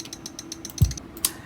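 Tail end of a fart sample turned into a hi-hat with EQ and distortion. Faint, quick ticking taps run steadily, then come a low thump and a sharp bright hiss near the end. It is quiet and heard alone, with no voices.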